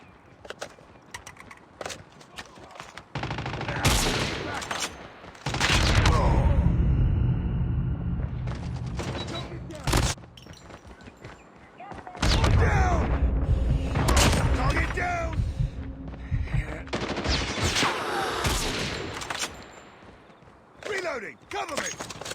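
Sniper rifle gunfire in a first-person shooter video game: loud, sharp shots and booming bursts come in clusters, separated by quieter stretches, while a voice talks over the action.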